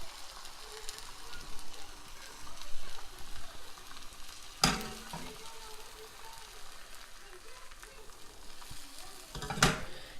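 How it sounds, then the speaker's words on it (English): A spoon works through a peppered mixture in a pan, giving a soft continuous scraping and shuffling with a sizzle-like hiss and two sharp clinks of utensil on the pan near the middle and end. "Give it a little bit of stir around."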